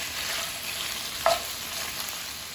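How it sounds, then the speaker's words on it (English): Pork ribs sizzle softly in a hot pan, a quiet steady crackle with a brief clink or stir partway through. "my costillas are frying up a little bit"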